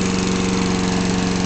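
A Geet-carbureted engine idles smoothly on a water, oil and gasoline mix, a steady, loud, even mechanical drone with a fast regular pulse and no pauses throughout.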